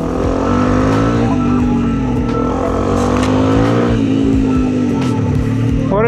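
A KTM 701 Enduro motorcycle engine revs steadily and loudly on a mountain trail in Epirus, a continuous throaty drone with rising and falling pitch throughout and no talk.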